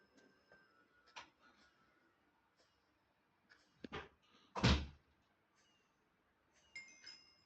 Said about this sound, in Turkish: Arkadaşlar kapı açılıp kapanıyor.